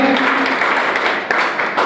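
A youth church congregation applauds during a service, a sustained crowd of clapping with some sharper individual claps standing out, fairly loud and close, with a voice briefly audible at the start.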